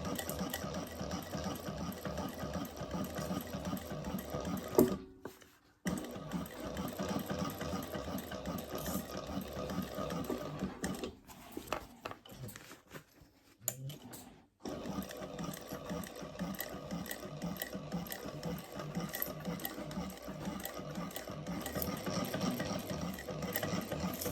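A sewing machine stitches a curved seam on a butter-bag drink project, running in a steady rhythmic whir that pauses briefly twice before resuming at an even, moderate pace.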